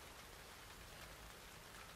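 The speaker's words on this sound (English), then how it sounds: "Rain tonight is strong." Steady, dense rain pours down in The Last of Us Part 2 on Seraphite Island at night, a constant even hiss with no voices.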